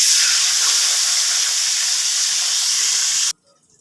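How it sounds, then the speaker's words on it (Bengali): Water poured into a hot pan of fried fennel seeds hisses and steams loudly and steadily for about three seconds, then cuts off abruptly into near silence. "এবার দিয়ে দিচ্ছি এই জলটুকু।"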